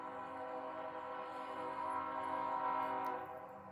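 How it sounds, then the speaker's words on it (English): A noisy train passes on the tracks, giving a sustained droning horn-like tone that swells a little as the train moves along. It is heard from some distance, with no talk over it. "That's a noisy train."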